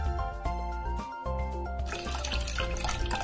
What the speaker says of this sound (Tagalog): maglalagay din tayo ng 1 big can ng evaporated milk or 370